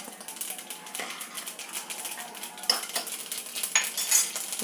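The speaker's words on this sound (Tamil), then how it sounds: "கடுகு பொரிகிறது." Mustard seeds pop and splutter in hot sesame oil in a pan, a fast irregular crackle with sharp snaps running continuously at close range.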